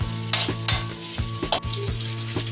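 Hungarian sausage fries in a pan with a continuous close sizzle, broken by several quick stirring scrapes and light utensil clinks against the pan, with no talking.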